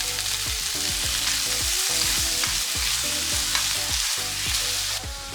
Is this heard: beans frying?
yes